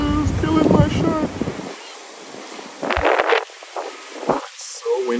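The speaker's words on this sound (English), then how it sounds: "It's so windy" Strong gusty wind buffets the microphone beside the Intracoastal waterway at Dania Beach, Florida, with boats passing; the roar swells in bursts and dips, with people talking over it at the start.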